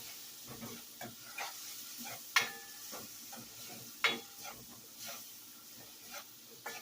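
Octopus rice mixture with pureed cilantro and sofrito being stirred in a pot, with repeated scraping strokes and faint sizzling in between, fairly quiet and close, no talking.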